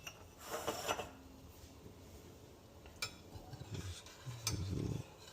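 A spoon stirs Indian milk tea (doodh patti chai) in a pot in a figure-of-eight motion, making faint scraping and clinking sounds in a quiet kitchen.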